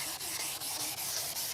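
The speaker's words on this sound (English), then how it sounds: "A palm sander is absolutely phenomenal when it comes to using the" A palm sander works on a car headlight lens on a Vauxhall Corsa, giving a quiet, continuous abrasive rubbing with faint rhythmic pulses, alone and with no voices.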